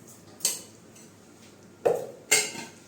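A spoon clanks against a metal pot a few times while stirring gravy, with short sharp knocks separated by quiet gaps.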